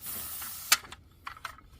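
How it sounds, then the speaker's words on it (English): A lever pushes the nozzle of a spray paint can to mark a log in a firewood yard, giving a faint steady hiss with one sharp click and a few brief spurts of spray. "it pushes the nozzle of the paint can and it lets it spray paint"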